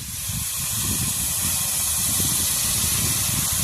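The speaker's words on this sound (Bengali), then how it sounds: "সামান্য একটু জল দেবো" Water splashed into a hot cooking pan while making a Bengali fish and banana-leaf recipe with turmeric, giving a steady, loud, broad steam hiss that builds quickly and carries on without letting up.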